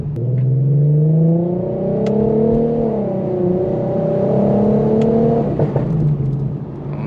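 An Infiniti Q50 3.7 engine revs loudly and steadily close by, rising and falling in pitch, with a few sharp exhaust pops and crackles near the middle and end.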